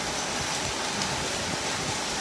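Heavy rain pours down steadily along with falling hail during a sudden storm with cold winds, a dense continuous hiss filling the whole stretch with no one speaking.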